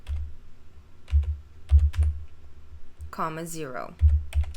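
Computer keyboard keys are pressed in short bursts of clicks at close range, with a voice speaking briefly between the keystrokes.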